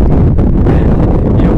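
Strong wind gusting at a riverside motocamping site, roaring hard against the microphone with a loud, constant low rumble.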